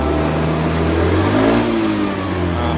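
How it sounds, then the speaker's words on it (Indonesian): An automatic scooter engine revs loud and close while warming up, a steady droning roar that rises slightly around the middle and then eases back. "Tapi kalau kita panasin motor,"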